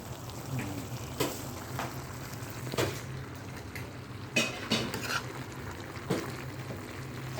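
A spoon stirring squash leaves in a cooking pot of vegetable adobo, with soft scraping, light clinks against the pot and a faint sizzle underneath, the strokes landing every second or so.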